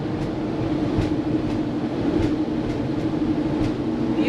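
A freight train rolls past near farm fields and hay meadows in North Dakota, a steady loud rumble with regular metallic wheel clacks throughout.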